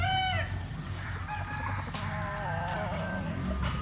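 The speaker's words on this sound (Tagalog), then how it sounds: "Mga manok ko mga boss." Backyard chickens at a rural Filipino farm cluck and crow repeatedly, several rising calls overlapping against a steady outdoor background, with no talking.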